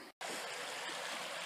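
Runoff water rushes down a gulch stream in the woods north of Idaho City, Idaho, a steady close broadband roar after a brief cut at the start.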